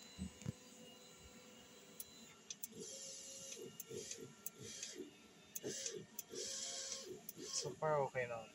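An inkjet printer runs a nozzle test after a head clean, giving a steady mechanical whir with regular clicks and carriage shuttles, close by, with a person talking over it.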